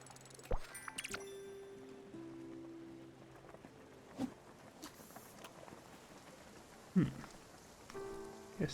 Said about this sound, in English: Yes, this is the thunderstorm.